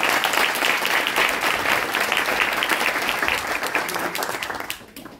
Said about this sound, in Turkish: Tekrar kocaman bir alkış lütfen.